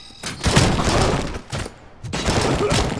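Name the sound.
gunfire in the RoboCop video game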